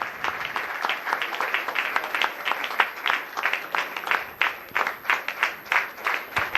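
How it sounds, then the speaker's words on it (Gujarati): An indoor audience at a Women's Day gathering of a Mumbai women's association claps to welcome an honoree, a dense, continuous round of applause from a room full of hands. "જોરદાર તાળીઓથી એમનું સ્વાગત થઈ જાય."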